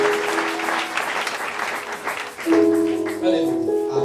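A church congregation applauds and cheers during a service, with dense clapping for about two seconds before voices and musical tones take over.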